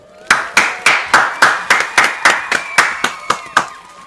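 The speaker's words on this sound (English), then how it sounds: "Let's give him a round of applause." A short burst of clapping, about a dozen sharp claps in a steady rhythm, fairly close and loud, with no voices.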